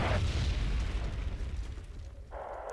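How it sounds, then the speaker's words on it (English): An artillery barrage explodes in the video game Wargame Red Dragon with a loud booming blast and a deep rumble that slowly fades. A fainter burst follows near the end, with no talking. "We'll join that barrage there"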